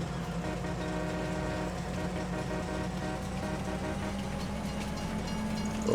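A train runs steadily in the Farming Simulator 2025 video game, a constant droning engine and rail hum with sustained tonal lines, moderately quiet and unbroken, with no talking.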